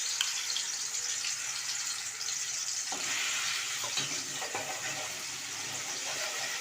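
Ground masala paste frying in hot oil for a Malvani-style surmai (kingfish) curry: a loud, steady close-up sizzle and hiss throughout, with faint scraping and stirring clicks and no talking.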